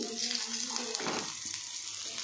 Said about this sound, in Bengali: এদিকে দেখুন বেগুনটা লো ফ্লেমে ভাজতে দিয়েছি